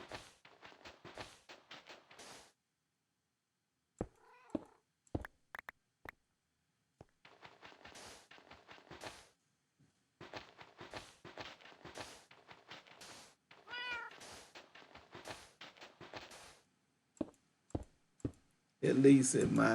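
In Minecraft, a cat gives a few short meows amid scattered footsteps and game clicks, with brief pauses of near silence between bursts of sound.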